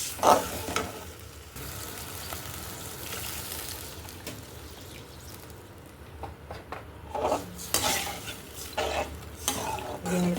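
Pot of water heating on a stove for semolina upma, with bubbling, sizzling and occasional scrapes and clinks of utensils against the pan, steady and close.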